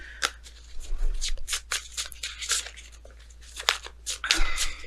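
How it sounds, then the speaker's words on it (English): Tarot cards being shuffled by hand, a run of quick papery riffles and slaps close by, loud and uneven, with a faint voice murmuring briefly in the background. "If I could get the shuffling part down."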